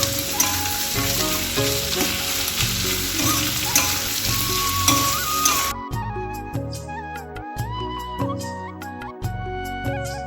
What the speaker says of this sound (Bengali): এখানে পেঁয়াজটা যেই ভাজা হয়েছে